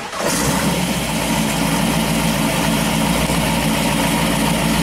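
A 393 stroker V8 in a Bronco fires up from cold via an electric push-button start, catching after a brief crank and settling into a loud, steady idle that runs alone to the end.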